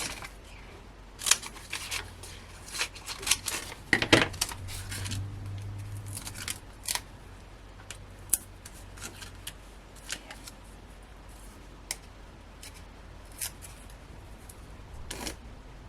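Sharp scissor snips cut through card in irregular bursts, close up and crisp, with quieter stretches between the cuts.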